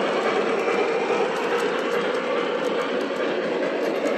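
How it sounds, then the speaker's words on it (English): A model train, a cab-forward locomotive pulling Southern Pacific cars, rumbles steadily along its track, a continuous close whirring and rattling with faint rhythmic clicking, no voices. "Here comes the cab forward, pulling a set of Southern Pacific juice boxes."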